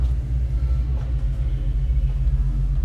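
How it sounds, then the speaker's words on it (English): A fuel-injected Porsche engine with early Jetronic injection, mounted in an Aztec 7, runs at a steady idle, a close, continuous low rumble with no talk over it. "Got a cool fuel injected Porsche motor. Runs sweet."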